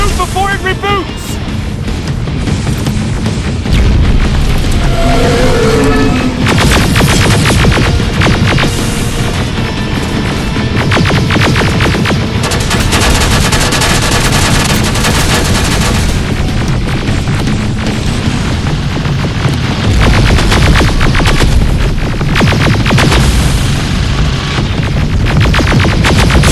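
Sustained loud, dense gunfire and booming explosions from a Terminator Resistance firefight, pounding continuously with layered bursts and impacts throughout.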